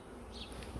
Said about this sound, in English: there's a number of bees left in here